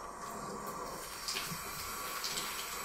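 Makeup eyeshadow brushes are rinsed under a running tap, a soft, steady stream of water with slight splashing shifts as the bristles pass through it, heard close and quiet with no talking.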